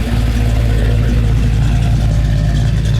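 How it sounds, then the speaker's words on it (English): A 1971 Chevrolet Camaro Z28 rumbles through its exhaust, a loud, close, steady deep V8 drone held at a raised idle or light rev for the full few seconds, with no voices over it. "you can hear what that exhaust sounds when it's revved up a little bit"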